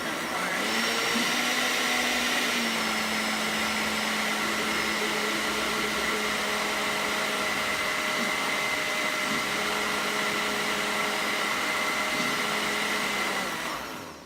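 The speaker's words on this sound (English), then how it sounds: "So I'm gonna blend it a little bit more." A blender runs continuously at high speed mixing thick moisturizer, with a steady, loud whirring motor drone. The pitch shifts slightly as it churns.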